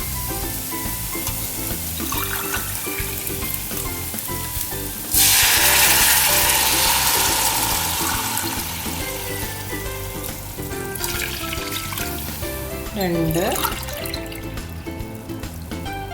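Water poured from a measuring glass into a pot of rice for Arabian kuzhi mandhi, a loud steady rushing splash under broad background noise, with a short spoken word nearby.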